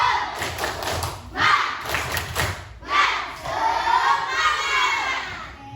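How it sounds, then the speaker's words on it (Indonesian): A school class performs the 'tepuk semangat' clapping chant: bursts of rhythmic group claps and thumps with children shouting in unison, rising in three loud waves. "Ibu mau kita tepuk semangat dulu."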